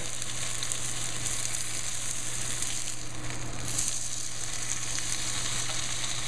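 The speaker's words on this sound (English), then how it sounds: "just fry it for a couple minutes just to brown it on each side." A rack of lamb browns in a hot pan, giving a loud, steady, close sizzle of spitting fat with a constant low hum beneath and no pauses.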